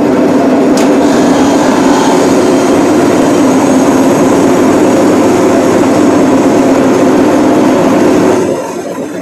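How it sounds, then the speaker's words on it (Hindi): An ice factory machine runs loud and steady, its agitator and compressor droning at close range with no break, then easing slightly at the very end. "मशीन में चालू करता हूँ, आप आवाज सुन लीजिए कितना आवाज करते हैं"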